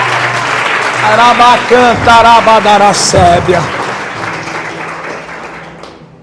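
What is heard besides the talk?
congregation applauding in church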